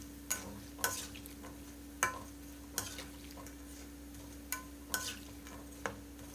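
Pork fat frying in oil over medium-low heat, a quiet steady sizzle punctuated by irregular light clicks and taps of a utensil stirring in the pan, with a constant low hum underneath.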